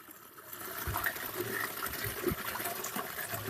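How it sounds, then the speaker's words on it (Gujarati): Jivamrut liquid fertilizer pours steadily into a container on a farm, a continuous splashing gush with small gurgling bursts and no voices. "આ રીતે જીવામૃત ભરવાનું છે"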